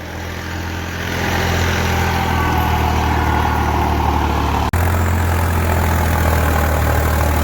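Two new tractors, a Holland 3630 and a Swaraj 855, idling close by with a loud, steady low diesel rumble and faint knock, dipping for an instant near the end before continuing.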